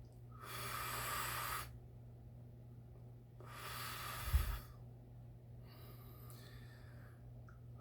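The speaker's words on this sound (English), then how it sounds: "See, look, that's a cleansing breath." Two forceful breaths in a pranayama cleansing-breath exercise, each a long airy rush followed by a stop, close and quiet, the second ending in a small thump, with faint murmuring afterward.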